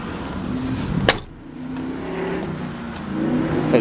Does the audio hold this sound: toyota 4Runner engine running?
yes